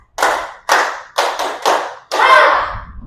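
A group claps in unison during a classroom clapping game in a teacher-training session, giving several distinct sharp claps (some doubled) followed by a longer ragged burst of clapping, close and loud, with no talking.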